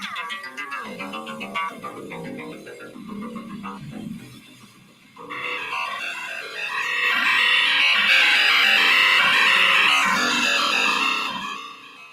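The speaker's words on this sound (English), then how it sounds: "All the sound you hear was created by an analog synthesizer" Warbling, croaking analog synthesizer tones shift and bubble, then swell into a dense, bright, buzzing wash that holds loudly before fading near the end.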